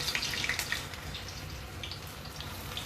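Pieces of elephant foot yam are washed in water, giving a soft, continuous splashing and trickling nearby at low volume.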